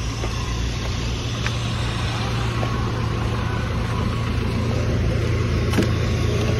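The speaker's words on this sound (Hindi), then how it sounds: "टेस्ट ड्राइव करने जा रहे हैं" Used car on a test drive in Chandigarh, with a steady engine and road rumble inside the cabin, heard close and continuous with a few faint clicks and knocks.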